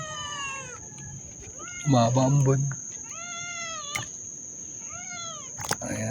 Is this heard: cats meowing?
yes